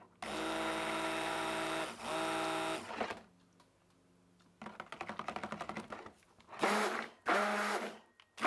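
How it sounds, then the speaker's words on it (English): A stick blender mixing mint essential oil soap batter, buzzing in long loud bursts that stop and start, with short pauses and some clicking and scraping between pulses, close by and with no talking. "going to pour this over the shaft of my blender just to make sure nothing splashes"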